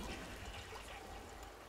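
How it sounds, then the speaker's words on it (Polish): Soft, distant rush of water from a toilet flushing in The Sims, a faint continuous trickling pour lasting under two seconds. "pan spuścił wodę"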